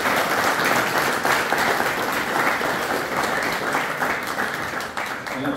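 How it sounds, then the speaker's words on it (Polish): An audience of auto-mechanic students gives the school director a big round of applause in a school hall: dense, loud, continuous clapping sustained throughout, with no voices standing out. "Wielkie brawa dla pana dyrektora"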